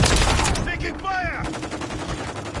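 Rapid, loud gunfire in the Call of Duty video game, a dense burst of shots with sharp cracks that thin into quicker repeated pops, while a voice shouts briefly partway through.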